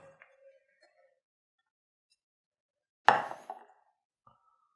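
A metal spoon clinks against a pan while Steak Diane sauce is spooned over steak, one sharp loud clatter followed by a few softer scraping taps, with quiet faint sounds before and a brief light tap afterward.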